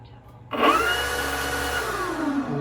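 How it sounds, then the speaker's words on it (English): An electric motor on a Sig Four-Star 64 model airplane starts up with a sudden rising whine and then runs steadily at a loud, close, constant pitch. "And we turn the motor on."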